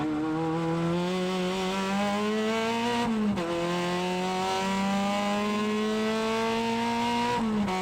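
A classic car runs hard on a race track at a classic car event, its engine droning loudly and climbing steadily through the revs, with a brief lift around the midpoint before pulling again.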